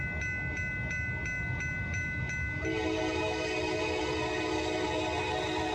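A Norfolk Southern freight train hauled by Dash 9 locomotives rolls past carrying loads of wood, a loud, steady rumble of rail cars with sustained tonal, horn-like notes throughout; no talking.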